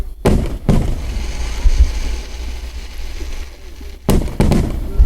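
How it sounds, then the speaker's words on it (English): A fireworks show with loud bursting explosions: sharp heavy bangs at the start, then a long rumbling crackle, then another cluster of close, loud booms at the end. "I love the fireworks."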